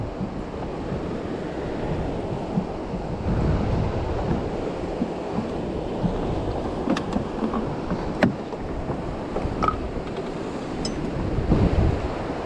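Strong wind at sea during night squid fishing by a boat off Samae San island, a constant roaring gust noise over breaking waves, with occasional sharp knocks and no clear talking.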